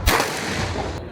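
A single loud gunshot at a firing range, a sharp close crack followed by a short reverberant tail and room noise.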